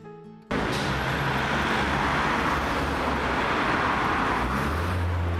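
Steady, loud street traffic at a Barcelona city intersection fills the scene, a continuous roar of passing cars and engines with no voices, constant throughout.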